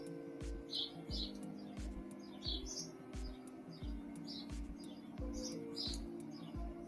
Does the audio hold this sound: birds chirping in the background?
yes